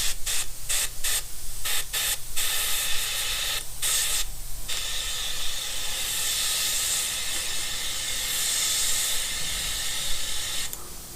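Harbor Freight powder coating gun hissing steadily as it sprays powder onto 1952 Dodge M37 parts, opening with several short sharp bursts before settling into a long continuous loud spray close by.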